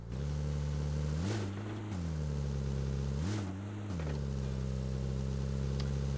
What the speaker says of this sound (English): there's enemies who can probably hear this car